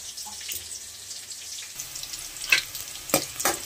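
Onions and green chillies fry in hot oil with mustard seeds, a steady soft sizzle with a few sharper crackling bursts and faint stirring clinks near the end.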